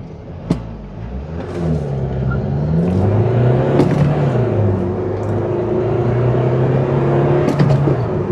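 A Honda Civic VIII diesel accelerates hard from 0 to 100, its engine note climbing and dropping through gear changes, loud and steady throughout with no talking.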